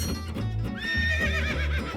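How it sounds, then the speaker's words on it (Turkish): A horse neighs in a loud, wavering whinny that rises and then trembles downward, set against a low rumble, with no talking over it. "bu bir at."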